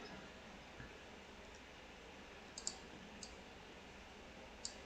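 Sharp, faint mouse clicks from someone working in Second Life, a few isolated taps spaced over several seconds against a steady low hiss, with no voices.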